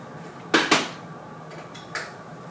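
A pot of pickle brine is set down on a stove, giving two close, hard metallic knocks in quick succession, followed a moment later by a lighter clink.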